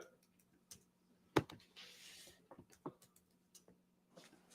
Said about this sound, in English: I'm typing it in right now for it.